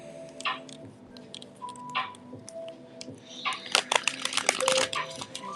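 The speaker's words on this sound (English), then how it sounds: "I'm over here shuffling some cards" Playing cards being shuffled by hand, a soft close-up riffling and snapping that starts sparse, then quickens into denser bursts toward the end, heard alone.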